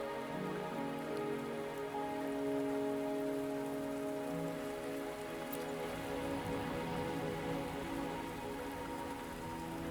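Steady rain patters on a surface in a constant soft hiss, with a faint sustained tonal hum underneath and no voices.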